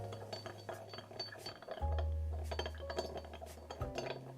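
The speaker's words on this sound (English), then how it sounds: "now I'm just gonna stir it a little. I have to stir it until the sugar dissolves" Spoon stirring an Old Fashioned cocktail in a glass to dissolve sugar, giving a run of light clinks and taps against the glass, close and fairly quiet over a low steady hum.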